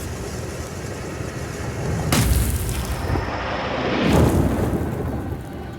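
A cave collapsing from fire and sorcery in the Black Book video game rumbles continuously, with two heavy crashing booms over a dense, rain-like roar of debris.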